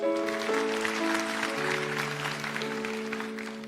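A church congregation applauds during a sermon, a broad clapping wash mixed with sustained organ or keyboard tones and a few voices, fading slightly toward the end.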